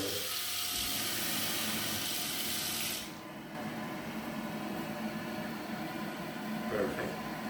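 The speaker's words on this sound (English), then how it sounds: "Now let's go ahead and activate the foam shield function." A Casta Diva smart toilet with built-in bidet runs its foam shield function, a steady hissing rush of water and foam that briefly dips around three seconds and then continues, with a person speaking.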